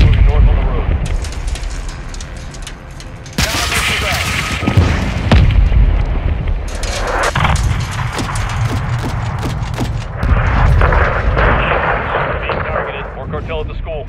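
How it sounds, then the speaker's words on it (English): Incoming missile strikes in a Call of Duty: Modern Warfare 2 battle, with heavy booming explosions and sustained loud gunfire and rumble crowding the whole stretch, mixed under voices. "We've got an incoming missile."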